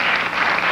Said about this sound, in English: Thank you for the mercy applause